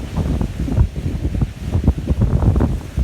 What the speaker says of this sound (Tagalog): Kasi grabe yung alon ba? Kasi nga sa low pressure.